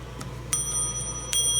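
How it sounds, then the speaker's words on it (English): An old telephone bell, handled during an unboxing, gives three or four short metallic dings, with a thin ringing tone lingering after the stronger strikes, close and fairly quiet. "I think this is a phone bell."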